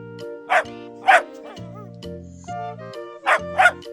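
A dog barks in four sharp, close woofs in two pairs, set over a steady musical backing in a children's alphabet lesson.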